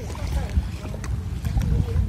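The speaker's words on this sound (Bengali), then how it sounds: "খেয়া নৌকা, ডিঙ্গি নৌকা নদীর একদম তীর ঘেঁষে যাচ্ছে" A small wooden ferry dinghy moves along a riverbank at a river ferry ghat, with a close, continuous low rumble of water and hull under a speaking voice.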